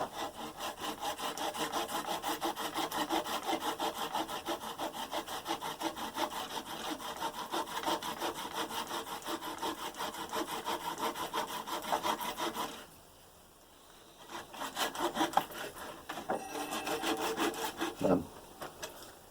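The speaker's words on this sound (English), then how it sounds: "I quite like a Japanese pull saw for this sort of thing." A Japanese pull saw cuts through epoxy-glued fretwork wood in steady, close back-and-forth strokes that run continuously, then pause briefly before a few more strokes resume.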